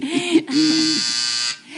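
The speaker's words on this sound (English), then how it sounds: "Oh, that's my buzzer." An electric buzzer sounds in a 1970s television talk-show setting, a loud, steady nasal buzz lasting about a second after a brief vocal-like sound at the start.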